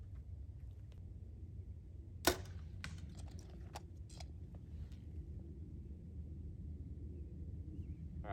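An arrow shot from a bow during sight tuning strikes the target with one sharp, solid impact, alone over a steady low outdoor rumble and a few faint scattered clicks.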